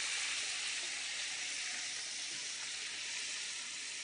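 Fish frying in a pan with lemon butter, giving a steady, close, dense sizzle that holds evenly from start to finish with no talking over it.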